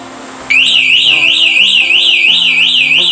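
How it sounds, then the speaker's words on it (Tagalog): A loud electronic bicycle alarm suddenly starts and wails continuously close by, a rapidly warbling siren tone that keeps sounding without pause. "Tutuloy-tuloy na yung alarm niya"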